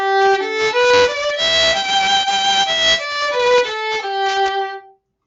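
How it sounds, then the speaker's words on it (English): Ascending and descending G pentatonic scale played note by note on a pitched melodic instrument, clear harmonic tones moving stepwise up then back down, each note distinct and close, ending in a held final note and silence. "This is the G pentatonic scale."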